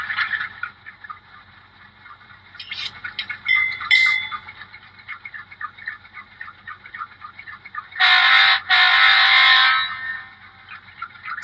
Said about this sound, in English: It's kind of an ugly horn,